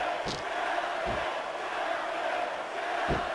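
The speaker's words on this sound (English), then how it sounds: "I think these superstars are getting some feedback from the crowd, JR." Steady roar of a large wrestling arena crowd in WWE SmackDown vs. Raw 2006, broad and continuous, with a few louder swells of cheering rising out of the din.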